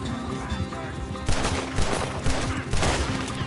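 Gunfire in a video game shootout: repeated loud shots crack out over a busy background of horses and commotion, coming in several bursts at close range.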